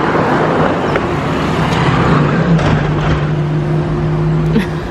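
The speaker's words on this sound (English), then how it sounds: "The car's going so slow." On a street in Barranco, Peru, a car creeps slowly past close by, its steady engine hum and tyre rumble filling a busy roadway backdrop.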